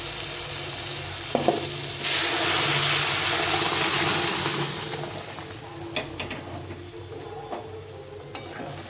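Boiled matar dal is poured into a pan of cooking vegetables, setting off a sudden loud surge of hissing sizzle that slowly eases. A few light stirring clicks follow.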